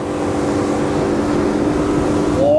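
A Saxdor 270 motorboat turning hard at about 40 knots at full revs, its engine roaring loud and steady with a constant hum of water and wind rushing past close by.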